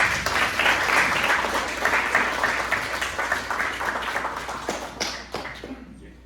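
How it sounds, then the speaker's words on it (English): An audience applauds steadily for several seconds, a dense wash of clapping that thins and fades toward the end. "Let's give a round of applause."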